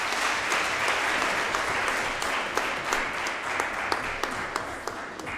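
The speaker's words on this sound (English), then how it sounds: "Another round of applause." Sustained audience applause fills an indoor hall at a municipal small-business roadshow, a steady dense clapping wash with sharper individual claps popping through, loud and even throughout.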